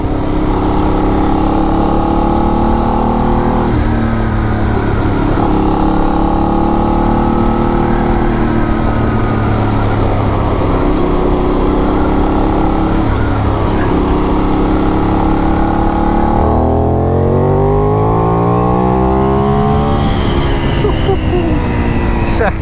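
A Benelli 752S sport motorcycle engine revs loud and close as it accelerates through the gears, its pitch repeatedly climbing then dropping at each shift, with a hard rising pull near the end.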